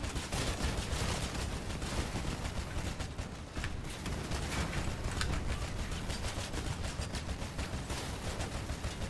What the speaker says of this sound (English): Oh god, this guy's gonna shoot my guns off!